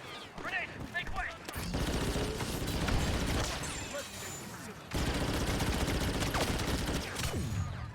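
Heavy blaster fire and explosions in the Star Wars Battlefront II video game, dense rapid bursts and booming crashes filling the scene, with voices shouting underneath.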